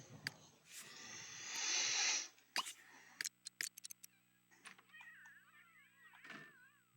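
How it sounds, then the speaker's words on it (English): A cat meows and yowls in short, intermittent complaints while being bathed, mixed with splashing water, thumps and quiet handling noises in a small room. "We're bathing the cat."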